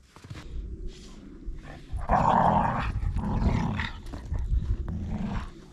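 A large black dog of about 80 pounds growls in low, rough, sustained bursts close by, loudest through the middle stretch, near a 1966 Tree Farmer log skidder on a homestead.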